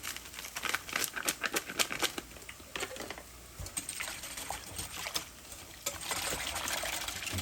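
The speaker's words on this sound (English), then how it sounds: "I'm going to whisk the daylights out of it." A whisk beats stock powder into lasagna soup with rapid, close clinks and liquid splashes, coming in uneven bursts before settling into a steadier swirl.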